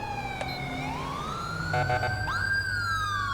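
A loud police car siren in GTA 5 wails continuously, sweeping up and down in pitch, with no talking.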